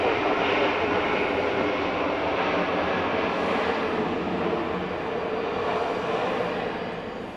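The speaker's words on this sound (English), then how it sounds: "Next to arrive, Delta 2063 and Airbus A321." Delta Airbus A321 airliner arriving at Atlanta airport at night, a steady broadband jet roar that holds loud and fairly close throughout before easing off slightly at the end, with no talking.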